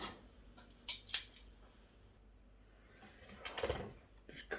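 Home-made dry-cured smoked back bacon being cut, a few faint, close clicks and snips with a soft scraping cut near the end, in a quiet room.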